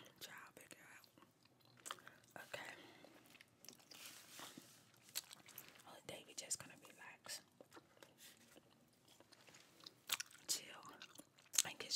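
Close, quiet gum chewing with wet smacks and soft crackles in an irregular rhythm, mixed with whispering and faint game sounds from Fall Guys.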